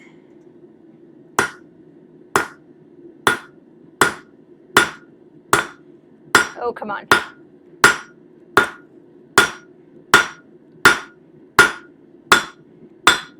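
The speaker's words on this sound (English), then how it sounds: "while I'm using the cross peen hammer" A cross peen hammer rings sharply on stainless steel in a steady, evenly spaced series of about sixteen blows while forging a spoon, with a brief muttered remark partway through.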